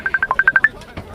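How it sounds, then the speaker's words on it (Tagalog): A cellphone rings with eight quick, evenly spaced electronic beeps, close and clear, followed by a faint trailing tone. "May bagting malaki mo cellphone."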